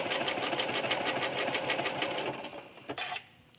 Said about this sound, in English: I'm going to start stitching my heart, pressing my button so that it's going to stop after it completes a full decorative heart.